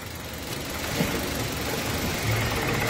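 A Kia Rio engine idles roughly in drive, stalling when in gear, with a low, continuous rumble and slight knocking vibration, steady and close throughout.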